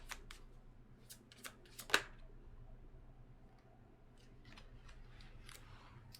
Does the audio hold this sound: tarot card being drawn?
yes